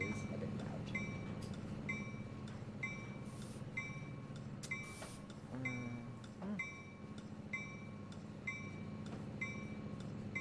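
A model train runs on a BC Rail Tumbler Ridge layout, looping slowly. Rhythmic clickety-clack from the wheels on the rail joints repeats steadily at moderate loudness and lasts throughout, with faint rumbling underneath.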